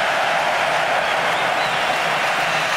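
Basketball arena crowd at the 1993 EuroBasket final between Russia and Germany, a loud, steady roar of cheering and applause filling the hall without pause.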